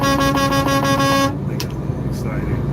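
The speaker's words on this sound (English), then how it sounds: "Yeah, they can honk like that." A car horn honks in quick repeated pulses for over a second on a road beside a truck, then stops, leaving engine and road noise.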